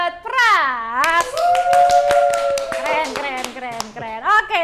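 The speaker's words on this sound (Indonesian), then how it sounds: "Tepuk tangan dulu dong buat Pras." Studio guests on a talk show clap in short, uneven bursts for a guest, the sharp claps sounding close and mixed under a loud, drawn-out voice.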